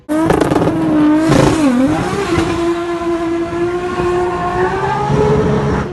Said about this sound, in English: Wheel spinning really hard into second gear now. Still wheel spinning, squarely all the way into third. Fourth gear, big boost.